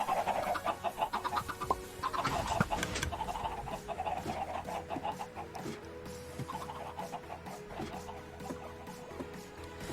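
Chickens cluck repeatedly in a Minecraft-style block-building game, a busy flock of overlapping clucks and squawks over a low mechanical hum, loudest at first and thinning out.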